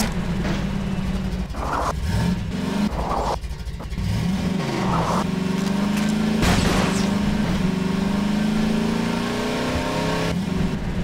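Car engine from the video game Half-Life 2, repeated loud revs rising and falling in pitch, a close, continuous motor drone with gear-like swells and no talk.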